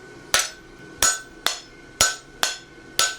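A striker's hammer hits a flatter six times, ringing sharply at roughly half-second intervals, while forging a plain stamp front horseshoe on the anvil. Each blow is loud and close, with a brief metallic decay.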